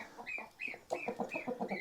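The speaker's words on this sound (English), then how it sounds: "Ruby Rooster's just seen his new ladies" A rooster and newly arrived hens on a farm in Portugal give short clucking calls in a brief, close burst, with no talk.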